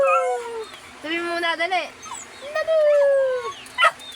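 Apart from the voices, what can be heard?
dog howling and barking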